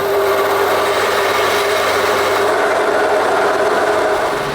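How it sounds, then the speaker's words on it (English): A hacksaw cuts through a piece of iron plate being shaped into a base plate, producing a steady, loud rasping drone that continues without pause throughout. "So I've got a bit of iron here, and a hacksaw."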